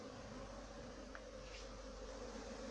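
Honeybees being gathered up by hand make a soft, continuous buzzing hum, faint and steady against a quiet background.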